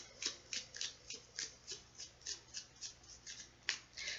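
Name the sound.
shuffling tarot cards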